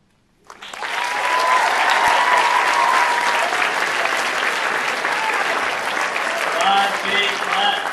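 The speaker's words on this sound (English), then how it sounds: "Big clap." Loud audience applause after a school candidate speech, starting abruptly and holding as a dense, sustained roar of clapping with scattered cheers and voices mixed in from the crowd.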